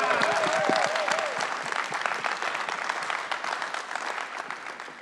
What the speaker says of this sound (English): So let's give a big round of applause for Beatrice.